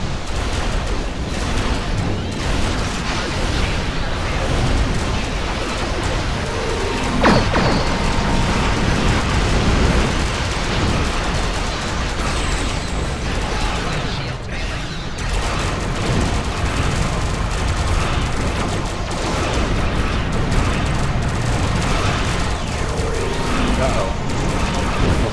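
Torpedoes launching and exploding during a Star Trek Online space battle, a dense rumbling wash of booms and blasts running continuously at loud volume, with a voice talking over it.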